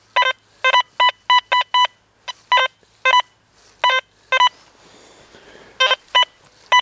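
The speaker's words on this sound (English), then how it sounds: "Listen to that detector. Hear that high tone rolling in there?" A metal detector gives a high-pitched target tone as a rapid series of short, sharp electronic beeps in clustered bursts while it sweeps over a located target. The beeps are loud and close, with no speech.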